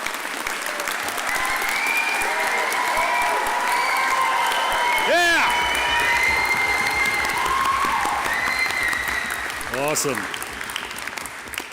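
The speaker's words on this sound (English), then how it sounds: "Let's give them one big round of applause." Loud, sustained applause fills the hall for graduates at a graduation ceremony, with a speaker's voice briefly cutting in over the clapping and the crowd easing off near the end.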